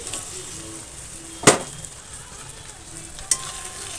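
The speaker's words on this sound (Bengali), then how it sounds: "এরপর আমি পেস্ট করা মশলাটা এতে দিয়ে দিচ্ছি" Ginger and tomato spice paste frying with browned onions in a pan, a steady close sizzle and hiss with two sharp clacks of a spoon or utensil striking the pan.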